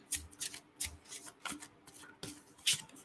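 Tarot cards being shuffled by hand, a handful of soft, close papery swishes and slaps in an uneven rhythm, quiet and alone.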